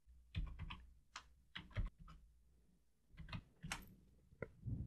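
Close, quiet keystrokes on a computer keyboard as a password is entered, coming in short irregular bursts of clicks with brief pauses between them.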